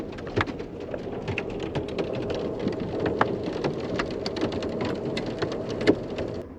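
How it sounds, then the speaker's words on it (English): Hail storm pelting an Amtrak train, a dense steady patter of hard hits on the car with sharper louder strikes scattered throughout, continuous and close. "you can probably hear the hail now hitting"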